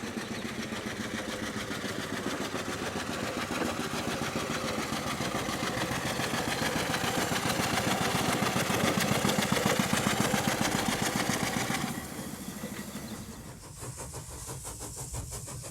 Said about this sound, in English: This one is an agricultural locomotive.